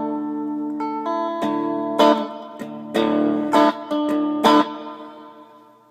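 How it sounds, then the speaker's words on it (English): An electric guitar plays sustained notes and sharp strummed chords through a digital reverb set for a deep Fender surf sound, drenched in deep, splashy reverb that rings out between strokes. "So you can get a really deep Fender surf sort of a sound out of it."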